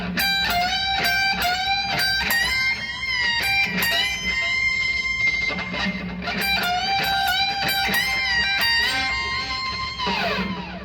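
Loud, sustained electric guitar lead playing high notes with pitch bends rising and falling, over a steady drumbeat and bass throughout.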